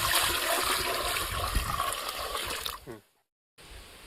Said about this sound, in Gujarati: પછી એમાં પાણી નાખી અને વ્યવસ્થિત ઓગાળી લેશું